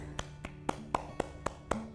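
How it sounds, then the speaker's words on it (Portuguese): Eight evenly spaced hand claps at the end of a stretching class, steady and fairly close, sharp individual slaps rather than a crowd's applause, with no talking. "palmas para vocês"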